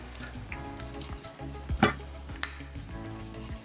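Steady close sizzling of ingredients sautéing in a hot pan for a traditional green pigeon pea and fenugreek dish, with a few scrapes and stirs of a spatula, no voices.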